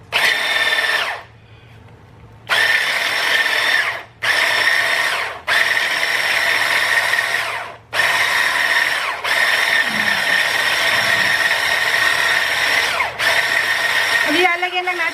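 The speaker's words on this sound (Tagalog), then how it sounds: "hand mixer na may attachment, balloon attachment." An electric hand mixer with a balloon attachment whips a creamy dessert salad, giving a loud, close, steady whir in several bursts separated by short pauses.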